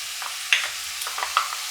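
Cauliflower florets and mashed boiled potatoes fry in a pan, with a steady sizzle and short scraping stirs and clinks of a spoon against the metal. The sound is close, and nobody speaks.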